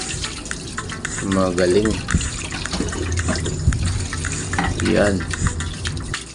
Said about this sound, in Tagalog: Bukas ng gripo, hugas kamay, hugas ng tasa